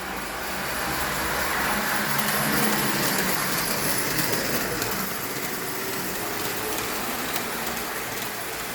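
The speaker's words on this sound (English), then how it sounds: "Listen to that electric motor hum." Electric motor of a vintage model train set humming as it runs, a steady broad whirring rumble with rattling wheel noise, continuous and fairly close, no talk.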